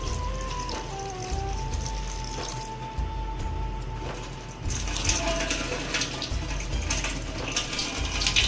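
Fresh mint leaves are rinsed under a running kitchen tap, steady water splashing into a sink with occasional clinks and handling noises, growing slightly louder midway.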